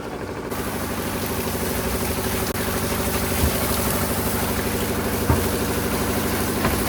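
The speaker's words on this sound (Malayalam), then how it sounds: "അവിടെ മോട്ടർ സ്റ്റാർട്ട് ചെയ്തിട്ടുണ്ട് കേട്ടോ" A deep-sea fishing boat's motor runs steadily, driving a pump that sprays water for washing on board, a loud, continuous close-up drone that holds an even level throughout with no voices.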